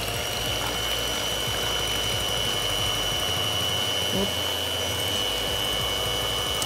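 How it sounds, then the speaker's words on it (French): Egg whites for a cheesecake being beaten to stiff peaks, a steady loud motorized whir of an electric whisk running continuously throughout. "Je passe donc à mes blancs d'œufs qu'on va fouetter progressivement pour les monter en neige."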